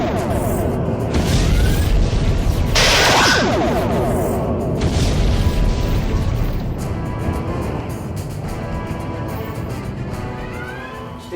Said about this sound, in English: Arm all proton torpedoes,